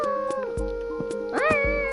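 A video game cat meows twice, loud and close, each call a drawn-out tonal cry, over a steady backdrop of game music.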